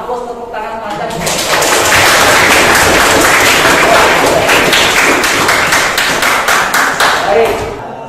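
Sustained applause from a classroom of students, dense rapid clapping that swells in after a second and continues loudly for several seconds before tapering.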